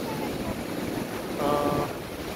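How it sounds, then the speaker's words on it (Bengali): Sea waves break and wash up on the beach at Cox's Bazar, a close rushing surge with wind buffeting the microphone and a brief swell of louder water near the middle. "এই ঢেউটা দেখেন চলে আসবে"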